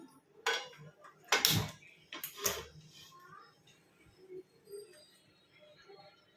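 A metal tawa set down on a kitchen stove for masala dosa, several sharp clanks and scrapes close by, followed by quieter faint rattling.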